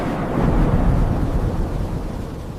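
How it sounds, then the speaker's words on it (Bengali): A thunderstorm rolls with deep, sustained thunder, a heavy low rumble swelling loud and then slowly easing off, with no voices. "ঝড় শুরু হলো"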